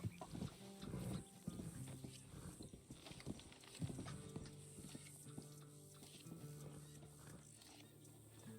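A horse trots away in a ranch video game, its hooves clip-clopping faintly in an uneven rhythm against a busy, low background.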